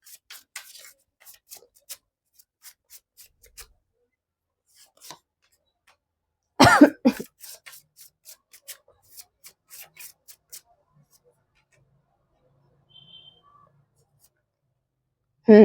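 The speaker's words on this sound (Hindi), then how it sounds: "Let me pull a few more cards to have more clarity for pile number 3." Tarot cards are pulled and shuffled, giving scattered soft rubs and flicks across a quiet room, with a dense burst of card rustling in the middle and brief handling noises around it.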